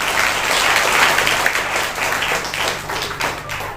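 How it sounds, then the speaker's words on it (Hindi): A church congregation claps loudly together in a sustained, dense burst of applause that eases slightly toward the end, with a low hum underneath. "जोरदार ताली बजाएंगे"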